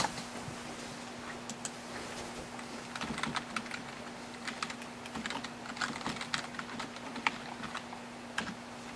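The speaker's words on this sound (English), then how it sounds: "So you're going to enter in your email address and your password" Rapid light tapping of an email address and password on an iPhone touchscreen keyboard, a quiet, close stream of small ticks with brief pauses and no speech.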